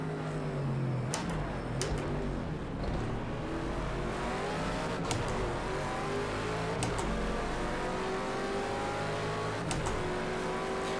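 A Ford Mustang race car engine in Project Cars 2 at Le Mans, a continuous loud droning roar that rises in pitch through the gears, with brief shifts and other cars faintly nearby.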